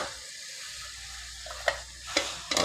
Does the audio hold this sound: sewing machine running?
no